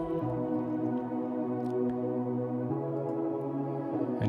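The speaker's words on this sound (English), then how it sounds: "First we have a pad. Sounds like this." A sustained synth pad holds soft chords with a smooth, even tone, steady and moderately quiet, alone without any voice.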